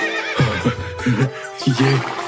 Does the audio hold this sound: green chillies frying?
no